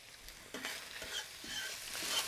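Onions frying in a pan with added meat for a keto lasagna, giving a steady faint sizzle with a few soft stirring scrapes and light pops, close and alone without talk.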